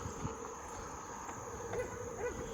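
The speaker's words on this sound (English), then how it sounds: "I was told that they are the cicadas. They're making that noise." A constant, shrill cicada buzz drones steadily throughout, droning on without pause over a low outdoor background in a historic district of Lancaster, South Carolina.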